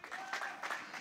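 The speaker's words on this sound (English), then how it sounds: "Somebody give the Lord a clap." Church congregation clapping together at a healing crusade, a dense burst of applause filling the short moment, steady and fairly loud with no voices on top.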